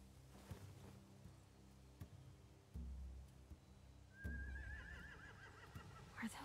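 Horses neigh in The Walking Dead video game: a drawn-out whinny rises and wavers near the middle, over low ambient game hum and occasional soft thuds, with a faint second call at the end.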